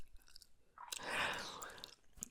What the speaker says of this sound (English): I hope the gum chewing compensates.